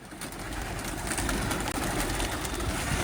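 Hobby pigeons of the kind released for flying contests coo continuously in a steady, dense chorus, with no talk over them.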